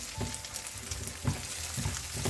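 Egg frying in oil in a pan for kimchi fried rice, a steady crackling sizzle throughout with a few louder stirring scrapes and pops close by, no talking.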